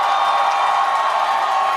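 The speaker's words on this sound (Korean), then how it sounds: "여러분의 뜨거운 박수와 함성으로 맞이해 주십시오." Crowd at an outdoor political rally in Pohang for a South Korean presidential candidate, cheering, whooping and applauding in a loud, steady, dense roar throughout.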